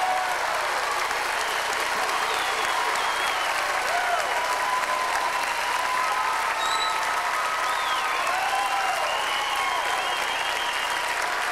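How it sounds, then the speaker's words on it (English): An audience at the Grand Ole Opry applauds to welcome a performer on stage, a sustained wash of clapping with scattered cheers and whistles throughout. "Would you do a favor and make me make Mr. Trey Hensley welcome?"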